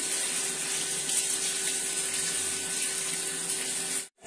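Water runs steadily over a baby during a bath, a continuous close splashing gush that stops abruptly at the end.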